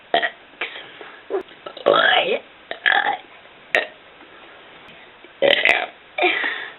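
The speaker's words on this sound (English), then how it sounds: "Good burping of the alphabet." A boy burps his way through the alphabet, a string of loud, close, drawn-out belches with voiced letter shapes separated by short pauses.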